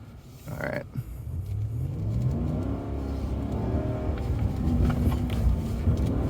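A 2022 Ram truck engine revs steadily in first gear while doing donuts on soft ground with traction control off, a loud continuous rumble that rises and holds, with faint rattles over it and no talking.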